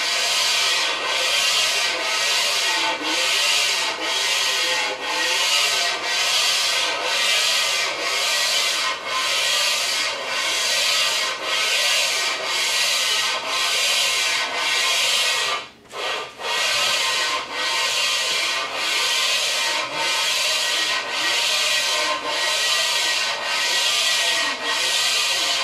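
Steady, continuous rubbing of a DIY surface plate being lapped, a loud scraping grind in a rhythmic back-and-forth stroke that runs without pause except for one brief break midway, with no talk.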